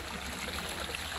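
Mountain water running steadily into a small outdoor pool, a continuous close trickling and rushing wash with no other sounds.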